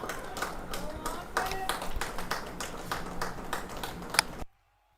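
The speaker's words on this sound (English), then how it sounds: "An applause from his teammates as well." A small group of cricket teammates claps at an outdoor league match, sparse, distinct hand claps in an uneven rhythm with a voice speaking over them before the sound stops abruptly.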